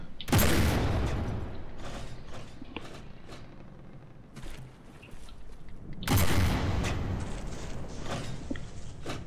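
Ship guns firing in Minecraft-style From the Depths, heard as two heavy booming volleys about six seconds apart, each a dense roaring blast that decays into mechanical rumble and scattered clanks.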